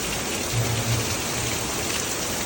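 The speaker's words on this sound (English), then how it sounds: "there was strong winds and a lot of rain" Heavy rain pours down during a storm in Houston with strong winds, a dense, steady roaring hiss close by and loud, with no talking.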